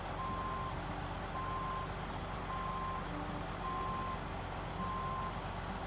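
A truck's reversing alarm in SnowRunner, heard as five evenly spaced steady beeps over a constant low engine drone, with no talking.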